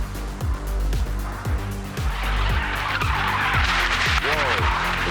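A Supercars race car at Turn 9 of the Adelaide street circuit skids into the runoff area, tyres squealing in a long screech over a loud, repeatedly downshifting engine roar. The sound is close and continuous.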